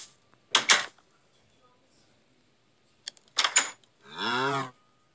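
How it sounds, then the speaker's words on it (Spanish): Blocky cow from Minecraft Pocket Edition lows in three separate bursts, two short clipped moos followed by a longer drawn-out one, close and clear against silence. "Tengo una mascota nueva. Una vaca."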